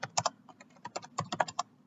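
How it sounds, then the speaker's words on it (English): Quick, close keystrokes on a computer keyboard while entering text for an HTML and CSS lesson, with about a dozen light clicks in uneven bursts under two seconds. "Let me type the school name,"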